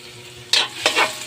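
Garlic hits hot oil in a frying pan for a stir-fried string bean dish, breaking into a loud close sizzle that surges in a few bursts as it is stirred, with no speech.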